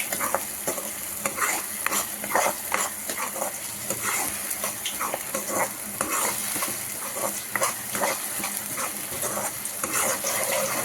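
Tomatoes for a potato, carrot and pea kurma sizzle in a pan over a steady frying hiss, with frequent stirring scrapes and clinks from a spoon, close up and without talk.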